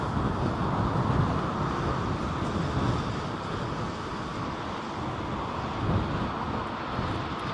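An airliner lands at Heathrow airport in strong wind during Storm Isha, a broad steady roar of jet engine and gusting wind running throughout at fairly constant loudness, with no talk.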